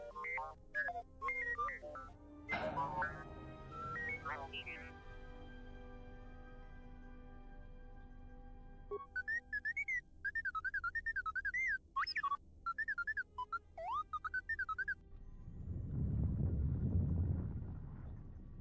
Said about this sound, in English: Low-pitched whistles and beeps. It sounds as if there's a utility droid on the other end.